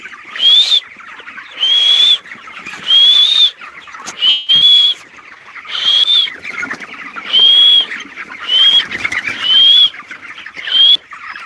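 Farm chickens in a poultry house peep in repeated high, whistle-like calls, about nine regular bursts close by, with quiet scuffling between them.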